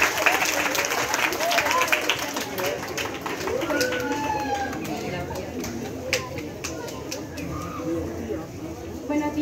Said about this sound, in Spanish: Recibámosla por favor con un aplauso.